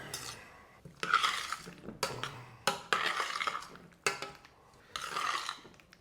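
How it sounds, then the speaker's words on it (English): Pasta being stirred into a cheesy bechamel sauce for mac and cheese, with a handful of sharp clanks of a utensil against the pot between wet scraping and stirring passages, close up with no talk. "We put our pasta in the sauce."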